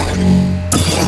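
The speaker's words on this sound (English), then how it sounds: "thought that made sense for a blaster deflection sound." A lightsaber blaster deflection effect: a low humming tone gives way to a sudden bright, crackling burst near the end, loud and alone.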